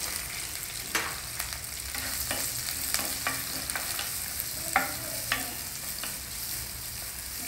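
Onions sauté with curry leaves in a pan for red rice poha, a steady close sizzle with repeated sharp spatula scrapes and taps at an irregular pace, no voices.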